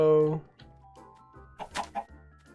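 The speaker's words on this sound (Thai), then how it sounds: "ถ้าเกิดเราเดินแล้วเราได้ยินเสียงไก่ เนี่ย เราต้อง รีบหามันนะ" A Minecraft chicken gives a short, clear cluck at the start, followed by softer in-game clucks and bleeps over a quiet background.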